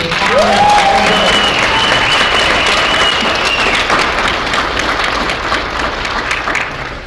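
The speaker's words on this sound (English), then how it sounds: "can we get a hand for Vanessa and the entire team?" Loud, sustained applause from a large conference audience, a thick continuous wall of clapping that holds steady and fades slightly toward the end, with a brief tonal whistle-like sound near the start.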